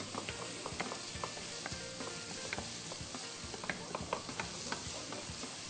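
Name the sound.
onions and garlic sautéing in olive oil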